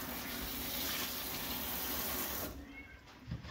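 Tap water runs steadily into a sink while a Yorkshire Terrier puppy is bathed, a broad continuous rush that cuts off near the end, leaving a quiet room with a small bump.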